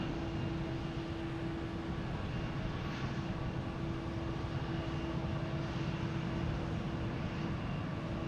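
ITA Airways airliner at Boston Logan Airport, a steady distant jet engine roar and hum, evening plane-spotting setting, continuous and moderately faint with no talk.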